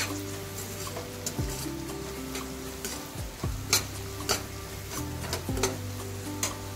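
A spoonful of homemade spice masala sizzles in a pan over a low gas flame for a ridge gourd and chana dal dish, a steady soft frying hiss with occasional utensil scrapes and taps.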